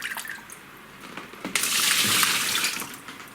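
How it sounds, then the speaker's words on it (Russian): Water poured out of a lifted orchid pot filled with expanded clay, a splashing stream that starts with scattered drips and then gushes steadily into a sink or basin, close and clear. "Выливаю всю воду."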